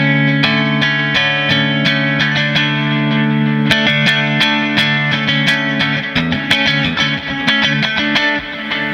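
An electric guitar played through a Line 6 HD500 multi-effects unit with ducking delay and reverb rings out in loud, sustained strummed chords with distorted tone and echoing tails, no voices.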